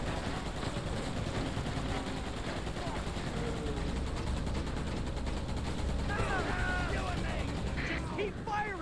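Dense, continuous gunfire from the Xbox video game Roadkill, rapid automatic bursts mixed with a few distant explosions, loud and sustained throughout with in-game voices faintly underneath.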